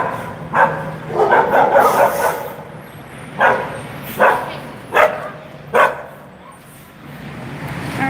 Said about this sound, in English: got dogs are barking.